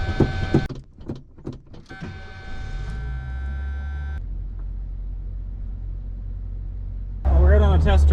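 A 1979 Ford Fairmont with a freshly installed starter cranks and turns over with a steady low rumble, preceded by short mechanical clunks and a whine, ending in a louder surge; someone talks near the start.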